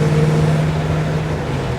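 A 1953 Allard K3 car cruises in fifth gear, its engine giving a steady, loud low hum with an even drone heard from inside the car over the brief stretch.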